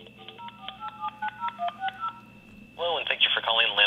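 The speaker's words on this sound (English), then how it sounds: "let me go ahead and dial this up and let's get into this prank phone call" Telephone keypad dialing tones, a quick run of about a dozen distinct beeps pressed in rhythm, followed by a loud ringing or line tone signal up close.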